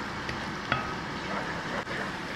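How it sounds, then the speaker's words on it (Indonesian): Shallots sauté in a pan for chicken tongseng, giving a soft, steady sizzle with a faint stir or scrape of a utensil partway through. "Ini bawang merahnya ditumis dulu."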